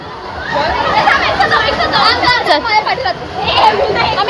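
Crowd of schoolchildren at a busy picnic spot, many young voices chattering and calling out at once in a lively, continuous hubbub close by.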